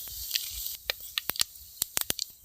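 Whole fennel, cumin, cloves, cardamom, cinnamon and bay leaf crackle in hot oil for village-style plantain stir-fry, with a quiet hiss broken by a run of sharp, irregular pops and spits.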